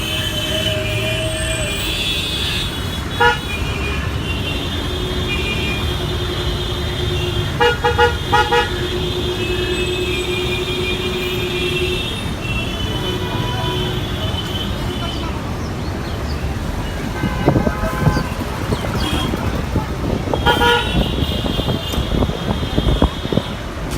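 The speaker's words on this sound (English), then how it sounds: "And of course, the car horns." Car horns honk repeatedly in busy Kolkata street traffic, short toots and longer blasts from several vehicles at varying distances over a steady roar of engines and road noise.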